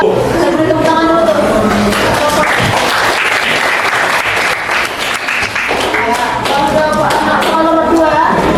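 A school class in an Indonesian language lesson gives a loud, sustained round of applause that swells and then tapers off, with voices heard alongside it.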